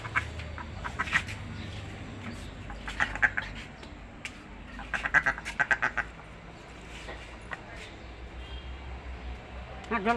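Ducks quacking in bursts of repeated raspy calls near water, loud and close at times, with a person speaking at intervals among them.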